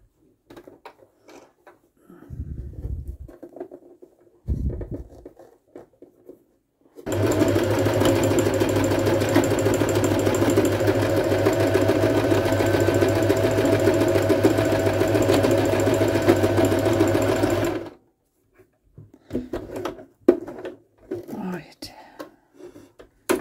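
A sewing machine stitches a bottle bag in a long, steady, close run of rapid mechanical whirring lasting about ten seconds, with soft handling sounds before and after.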